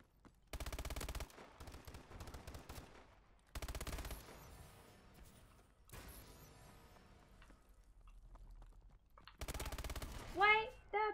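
An MP11 submachine gun in a free-for-all video game match fires in four rapid, loud bursts separated by short pauses.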